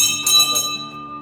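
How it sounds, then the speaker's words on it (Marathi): A metal bell rings inside a village temple sanctum, struck twice in quick succession, with bright ringing tones that decay over about a second. "चल मी उचलतो तुलेच मग वाजव घंटी"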